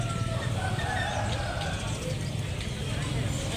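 A busy outdoor bird market in Kuripan, Pekalongan, Indonesia, with pigeons cooing amid a dense crowd murmur and chatter, the birds mixed into constant background noise.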